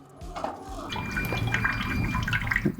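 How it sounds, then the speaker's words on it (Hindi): Water runs out of the nozzles of a soft-serve ice cream machine left running in clean mode, a steady close splashing and trickling flow. "अब हम आपको इन नोजल्स के थ्रू पानी को निकाल कर दिखाएंगे कि हमारा जो पानी है वो कैसा निकला है।"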